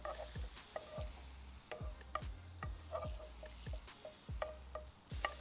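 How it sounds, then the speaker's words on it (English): Sage leaves fry in brown butter in a pan, a constant close sizzle broken by regular scraping strokes of a utensil stirring about twice a second. "So the sage is now frying."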